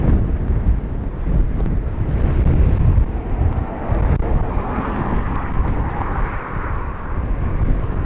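Strong crosswind gusting at Dublin Airport, a loud broadband rushing roar buffeting the microphone continuously throughout, with no voices.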